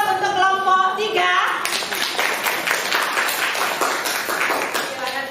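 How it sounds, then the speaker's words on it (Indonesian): Classmates in a classroom applaud a student group, the clapping starting under a teacher's voice and then continuing as steady, moderately loud applause from many hands. "Sekali lagi aplaus untuk kelompok 3"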